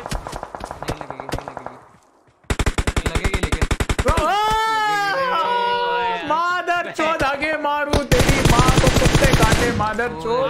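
Gunfire in a shooting video game: rapid automatic bursts and single loud shots, close and harsh, with excited voices talking over and between the volleys.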